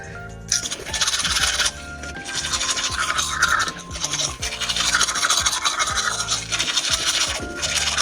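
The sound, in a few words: brushing teeth with a toothbrush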